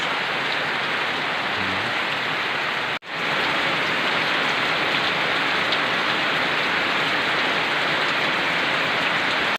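Steady, dense rain pours down close by onto garden plants, a continuous hiss with a brief cut partway through.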